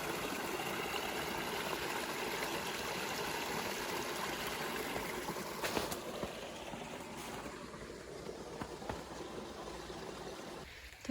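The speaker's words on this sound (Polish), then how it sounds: "To jest właśnie ten drugi strumyk, który dopływa do siedliska i przepływa pod tym drugim mostkiem." Small stream trickling between old alders and willows and flowing under a wooden footbridge near a rural homestead, a steady close broadband rush of water that continues throughout, with a couple of brief knocks midway.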